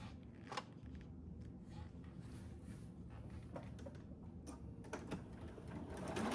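A sewing machine runs a quarter-inch seam across a quilt block, backstitching at the start, giving a steady, close mechanical whir that holds without pause throughout.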